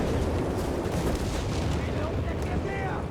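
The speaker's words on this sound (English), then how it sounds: "Some of the rockets are hitting." Rocket barrage in Company of Heroes 3 striking buildings, a dense rolling wall of explosions and rumbling impacts that continues without a break, loud and close.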